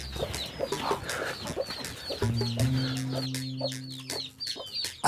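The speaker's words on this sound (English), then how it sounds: "So I'm sure there must be some chicken around." Free-range chickens on a farm cluck in repeated short bursts, fairly close, while a low steady hum runs through the middle of the scene.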